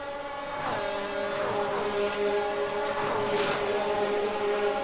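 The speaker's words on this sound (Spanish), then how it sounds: "Se escucha incluso algún coche tocar el fondo plano" Ferrari GT3 race cars roar at Daytona in a racing video game, engines droning steadily with tones sweeping up and down as the cars pass close together.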